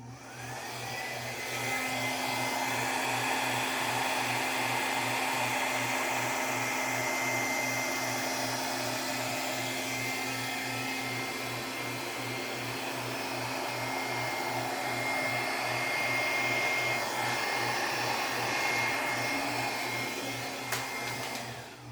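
A hair dryer blows steadily and loudly for the whole stretch, spreading pink and white acrylic paint in a Dutch pour, with a constant whooshing airflow and a low motor hum and no talk.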